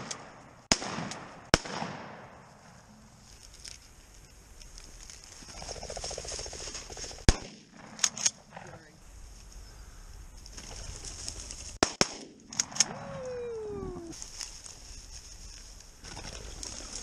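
Shotgun fire during a pheasant and quail hunt in open country: a few sharp bangs scattered among birds calling and wing flutters, with outdoor background noise and no clear talking.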